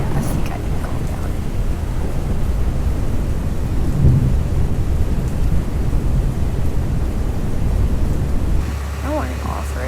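Video game thunderstorm in the storm-chasing game Twisted: heavy rain and deep rumbling thunder wash continuously across the scene, dense and loud, with a brief voice near the end.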